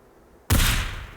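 A rifle fires at an armoured zombie in the video game Into The Dead: one sudden loud blast after a quiet moment, its rough noisy tail decaying over the rest of the clip.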